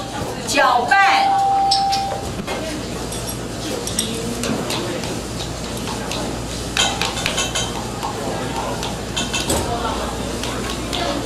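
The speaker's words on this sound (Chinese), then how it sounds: "搅拌，" Seasoned minced meat for pearl meatballs is stirred in a bowl with clinking utensils and scraping, a steady run of metallic taps and knocks under continuous talking in a food-processing class.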